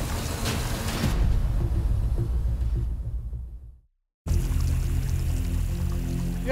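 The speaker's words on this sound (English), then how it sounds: "Yeah, blew right off the fitting here" Water spraying hard from a hose that has blown off its fitting at a jade mining site, a loud steady hiss and gush that cuts off abruptly into silence, then resumes just as strongly.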